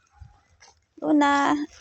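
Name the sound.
dog whimpering and yipping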